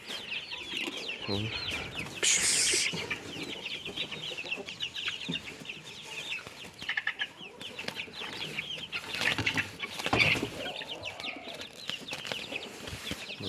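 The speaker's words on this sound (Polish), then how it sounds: "tu kurczaki w takiej zagrodzie małej" Chickens cluck and chatter softly in a small pen, a steady busy murmur of hens with occasional sharper calls rising above it.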